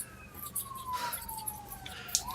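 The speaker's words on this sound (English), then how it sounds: "That's a fire truck, is what that is" A fire truck siren passes outside, a thin wailing tone gliding slowly downward, distant and faint beneath a low background rumble.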